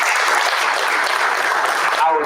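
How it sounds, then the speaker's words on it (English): A brief burst of dense applause at a school board of education meeting, a roomful of people clapping for the athletic department, steady throughout before a voice cuts in at the end. "So if we could have a round of applause, please, for our athletic department"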